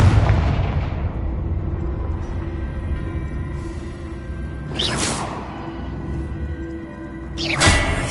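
Confringo blasting spell explosions in Hogwarts Legacy, starting with a heavy boom that fades into rumble, then two sharp bursts with whooshing impacts around five and seven and a half seconds, loud and close.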